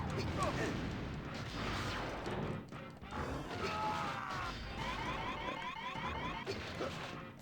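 Missile fire and explosions crash repeatedly in the Nintendo 64 game Transformers: Beast Wars Transmetals, a dense run of blasts and impacts with a person talking over them.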